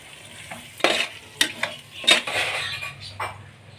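Fried prawns are stirred into tomato masala in a pot for prawn biryani, with a few metallic scrapes and clinks of the spoon over a low sizzle and no talking.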